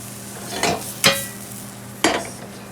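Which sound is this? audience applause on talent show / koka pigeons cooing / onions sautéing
onions sautéing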